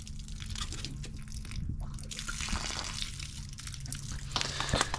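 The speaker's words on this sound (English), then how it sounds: "we are gonna temporarily open our bottom drain" Water from the bottom drain of an RV water heater splashes and trickles steadily at close range, a continuous wet gurgle with small drips and faint background hum.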